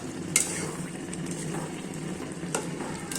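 Bombay chili chutney frying in a pan as its water cooks down: a steady, close, hissing sizzle with a couple of sharp spatula scrapes against the pan.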